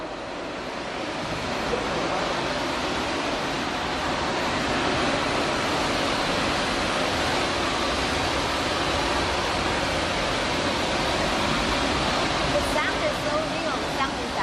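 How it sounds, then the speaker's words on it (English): A steady, dense roar of rushing water fills an immersive 3D media art exhibition in Chengdu, China, the waterfall pouring evenly and loudly without a break throughout. "you can see that waterfall is pouring in every projection wall"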